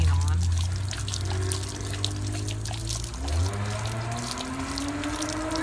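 Water runs and splashes from a tap, with irregular lapping and gulping sounds close by as a Great Dane drinks; a low mechanical hum sits underneath.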